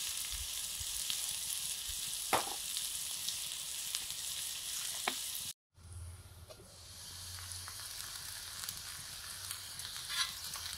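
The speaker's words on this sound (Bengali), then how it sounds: "পেঁয়াজটা ভাজা হয়ে গেছে" Onions and green chilies frying in a pan, a soft continuous sizzle with occasional spatula taps, broken by a brief cut to silence before the quiet hiss resumes with a low hum.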